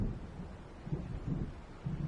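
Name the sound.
distant thunder of an approaching storm, from the video game Alan Wake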